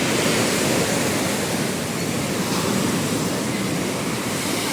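Powerful sea waves pound and spill over a protective sea wall, producing a constant, loud, broadband roar close to the listener with no other sounds.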